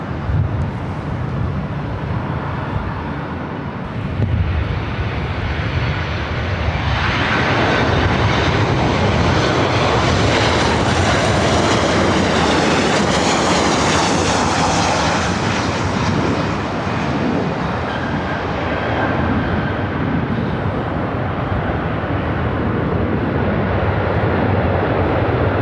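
Jet aircraft engines at LAX airport roar loudly and steadily for the whole stretch, swelling in a broad rushing surge midway as a plane passes close, with no voices over the noise.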